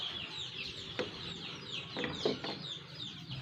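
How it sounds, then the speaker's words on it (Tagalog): Chicks and chickens peep and cluck faintly and repeatedly in a quiet outdoor setting, with scattered soft calls and no talk. "Maraming sisiw dyan mga boss."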